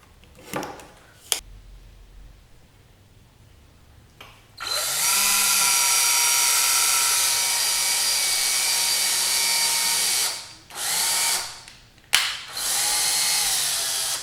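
Power drill boring through parts clamped to a table: a few clicks and handling noises, then a long, loud, steady whine of the drill that stops briefly twice and restarts.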